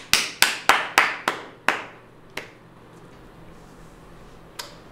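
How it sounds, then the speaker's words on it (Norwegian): A handful of sharp, separate handclaps on a studio comedy show come quickly at first, then slow and thin out into a couple of stray claps before quiet. "Applaus."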